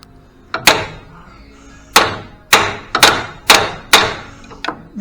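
Hammer blows on a small-block Chevy engine freeze plug, about six or seven sharp, loud impacts spaced irregularly roughly a second apart, close up with a brief ring after each.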